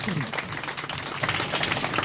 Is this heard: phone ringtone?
no